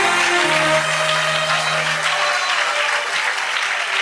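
A church congregation claps together in a dense, sustained burst of applause, loud and continuous throughout, with a faint voice or tone lingering early on.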